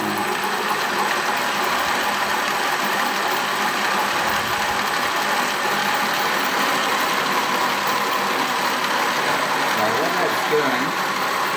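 A single electric motor drives an opposing torque dynamic clutch CVT mechanism, giving a steady, loud mechanical whir with rattly gear and ratchet texture throughout, someone talking over it.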